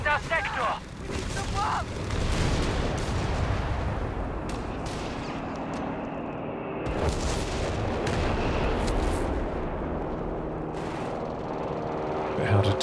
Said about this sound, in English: He's barraging out the back there, hoping to catch something.